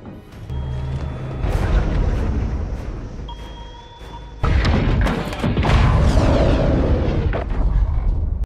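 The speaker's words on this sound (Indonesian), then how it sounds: "Dan saat itu menyebabkan ledakan yang cukup besar." A large explosion from the film The Meg erupts as a sudden heavy boom with dense low rumble that swells and lingers under dramatic score.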